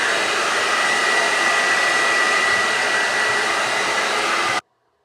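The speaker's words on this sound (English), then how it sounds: "you're gonna like hover it over your hair first before you start to diffuse" A hair dryer fitted with a diffuser runs as a steady, loud, close whoosh while drying curly hair, then cuts off abruptly near the end.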